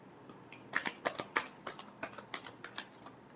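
Tarot cards being shuffled by hand, a close series of soft, crisp riffling snaps in an irregular rhythm, faint and alone in a quiet room.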